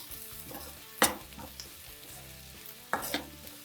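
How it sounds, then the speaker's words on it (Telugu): Tempering spices fry in hot oil for a one-pot mixed dal khichdi, giving a soft sizzle broken by a few sharp scraping knocks as a spoon stirs the pan. "కాస్త కలర్ వచ్చేంత వరకు వేగనివ్వాలి తాలింపు వేగింది"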